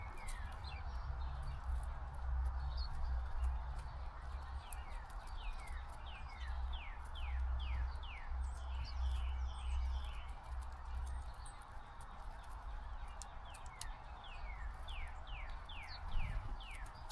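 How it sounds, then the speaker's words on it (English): Male northern cardinal singing near a backyard feeder strewn with empty seed shells, repeated clear downslurred whistled notes in quick series over a low steady outdoor rumble. "you can hear the male cardinal"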